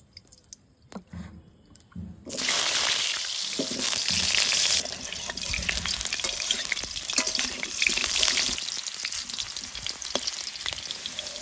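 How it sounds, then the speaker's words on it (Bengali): Potato pieces frying in hot mustard oil for a biryani, a loud dense sizzle that bursts in suddenly and keeps crackling steadily, with occasional stirring clatter underneath. "এই বিরিয়ানিটার জন্য আলুগুলা প্রথমে ভাজি নিব তার জন্য ব্যবহার করবো হচ্ছে সরিষার তেল"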